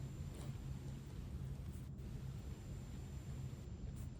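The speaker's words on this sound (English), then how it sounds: "I guess I put my fan on." A steady, low whooshing drone of a fan running nearby, constant and unbroken throughout.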